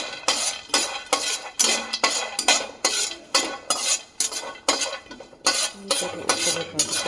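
Colostrum milk stirred and roasted over a low flame, with a spoon scraping and clinking against the pan in a steady rhythm of close, repeated strokes.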